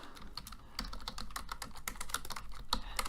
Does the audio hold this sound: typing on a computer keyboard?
yes